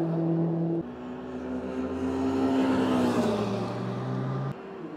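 Peugeot car engine at a high-performance sports car event, a steady droning note that shifts in pitch as it passes, moderately close and clear with no talking.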